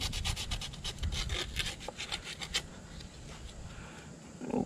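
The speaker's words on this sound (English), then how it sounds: "I'm sanding this really good." A Toyota Hilux part being sanded clean by hand for a spigot bearing job, close rapid rasping strokes in a quick rhythm that then settle into a softer steady rubbing.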